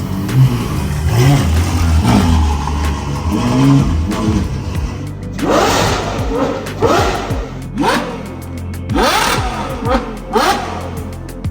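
A Ferrari sports car engine roars and revs loudly nearby, rising and falling in sharp bursts through repeated throttle blips.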